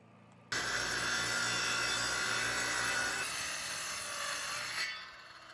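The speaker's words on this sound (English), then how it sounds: "Just putting the last screws into the critter barrier." A power drill or driver whirs steadily as screws go into a wooden critter barrier beneath a small off-grid bunkie cabin foundation, one continuous close, loud run that eases off near the end.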